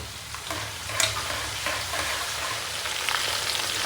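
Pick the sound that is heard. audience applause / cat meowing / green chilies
green chilies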